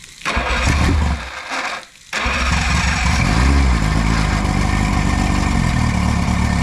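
A V-4 outboard motor on a Starcraft Jet-Star boat is started for the first time in over five years: two loud bursts of cranking cut off by brief pauses, then it catches and settles into a loud, steady, rough run.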